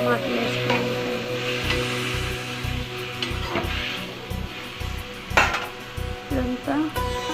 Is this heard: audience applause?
no